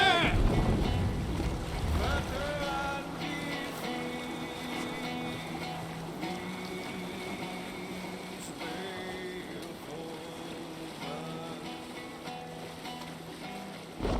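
Viking longship under sail in Assassin's Creed Valhalla, with a steady rush of wind and water over a low tonal bed, and layered musical or choral tones running throughout at moderate volume.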